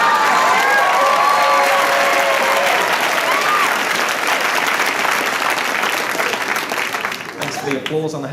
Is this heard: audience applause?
yes